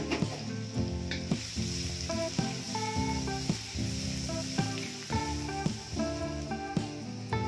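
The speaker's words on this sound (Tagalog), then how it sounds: "At ngayon ay magigisa na ako. Ang gagamitin ko dito ay salted butter. Ilalagay ko na ang bawang," Garlic sautéing in salted butter in a pan, a close, continuous sizzle broken by regular scrapes and knocks of stirring.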